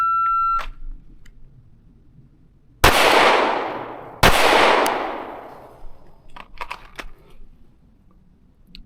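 Two loud, sharp pistol shots from a Canik Prime during a qualification shooting drill, a double tap about one and a half seconds apart, each ringing out in a long decaying echo, preceded by a brief beep and followed by faint clicks.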